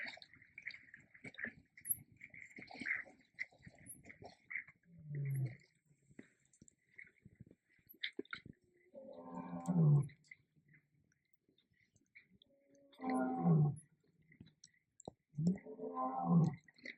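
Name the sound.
lion roaring nearby at Khwai River, Botswana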